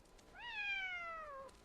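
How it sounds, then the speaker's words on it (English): A single drawn-out cat meow in a quiet Istanbul village, fairly faint and slightly distant, falling gently in pitch over about a second with no talking. "Look at the cat. It is walking slowly."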